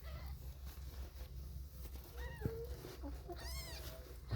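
Young kittens mew while being lifted by hand, giving a few short, thin, rising calls, mostly near the end, over a low steady background hum.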